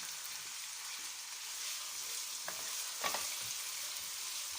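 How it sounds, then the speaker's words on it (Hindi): Chicken roasting in a hot pan gives a continuous, fairly quiet hiss of frying, with a few brief stirring scrapes and clicks near the end. "अब हम इसके अंदर अपना जो चिकन है उसको डाल के इसको अच्छे से रोस्ट कर लेते हैं।"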